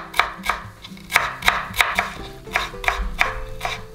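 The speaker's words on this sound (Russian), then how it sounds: "Мелко нарезаю зелень." Steady rhythmic knife chops finely cutting fresh dill and green onion on a cutting board, about a dozen crisp strikes in quick succession, close and loud with no talking.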